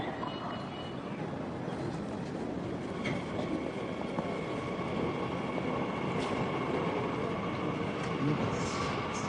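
A metro train rumbles steadily through an underground station, a continuous close roar of wheels on rails, with faint squeals and a voice briefly audible over it.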